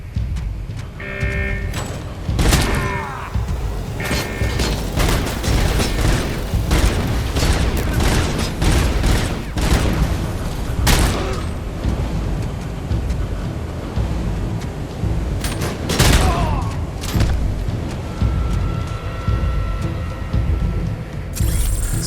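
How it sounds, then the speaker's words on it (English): A grenade blast in RoboCop: Unfinished Business booms amid a continuous loud firefight, with repeated heavy impacts and explosions layered over steady rumbling noise. "A grenade right at us."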